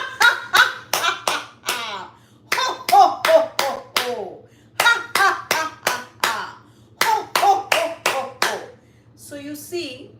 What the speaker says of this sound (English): So let's do that, clapping our hands.